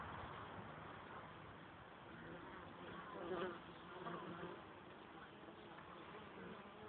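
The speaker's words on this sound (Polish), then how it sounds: "O, osa." Wasp buzzing at a beehive entrance in early September, a steady insect drone close to the microphone with a brief louder pass midway, other bees humming around and no talk.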